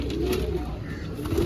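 Pure Teddy pigeons coo close by in a steady, low, throaty murmur that carries on without a break. Faint background noise sits underneath, and no one speaks.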